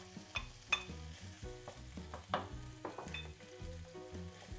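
Olives go into a sizzling pasta alla puttanesca sauce, producing a quiet frying hiss with occasional stirring taps, partly masked by background music.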